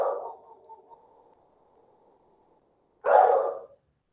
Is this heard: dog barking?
yes